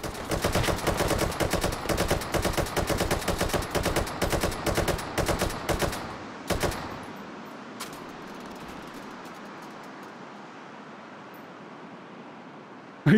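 An RPK machine gun in the VR shooter Hot Dogs, Horseshoes & Hand Grenades fires loud rapid bursts for about six seconds, then a few single shots before quiet ambience.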